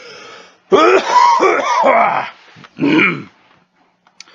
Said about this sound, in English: Need to cough.